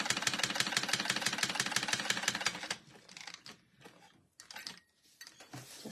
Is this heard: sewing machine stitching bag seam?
yes